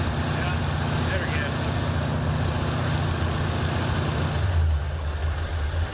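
A 1984 Ford Mustang Foxbody engine idles steadily with exhaust leaking from the headers, giving a constant low, close drone with a slight shift near the end and no talk over it.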